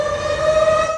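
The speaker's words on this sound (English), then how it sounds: "video showed sirens warning of tornadoes" Tornado warning sirens sound across the Chicago area during severe weather, giving a loud, steady wail that holds one sustained tone with overtones for the full second, carrying no voices.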